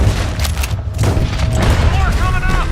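Gunfire in Red Dead Redemption 2 during a fight with raiders: dense, booming shots crack repeatedly over loud game noise, with voices talking over the action.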